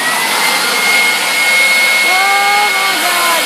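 A leaf blower runs steadily and loudly throughout with a constant whooshing roar, while a thin high whine rises and shifts in pitch near the end.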